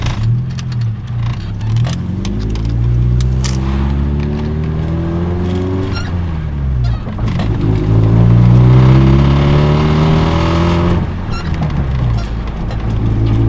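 A loud car engine revs through rising and falling sweeps while driving, the pitch climbing steadily in repeated pulls, close and dominant throughout; the car has speedometer trouble.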